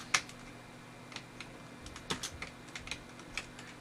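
Computer keyboard arrow keys pressed while steering a platform game character, a sparse series of light, close clicks at irregular intervals over a quiet background.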